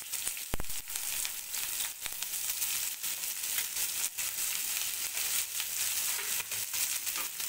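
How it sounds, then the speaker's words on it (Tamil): Onions sizzling as they fry in hot oil for a Tamil-style paneer masala, a steady close crackling hiss with scattered sharper pops running throughout, no talking. "எண்ணெய் சூடான பிறகு நம்ம வெங்காயம் சேர்த்துக்கலாம்."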